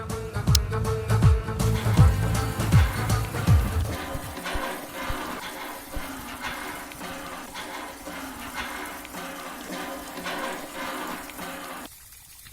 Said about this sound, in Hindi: पानी भर गया है, नीचे गिर रहा है।